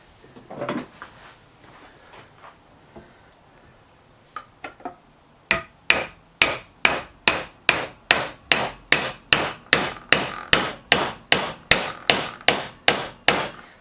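A hammer repeatedly striking a 2021 Giant Stance mountain bike fork held in a vise: after a few faint taps, about eighteen sharp, evenly spaced metallic knocks ring out loud and close.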